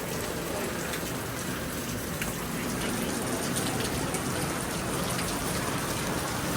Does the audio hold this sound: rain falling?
yes